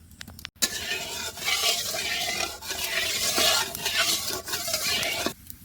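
Steady, loud sizzling and crackling of vegetables frying in hot oil in a wok, with a brief clatter near the start; no one speaks.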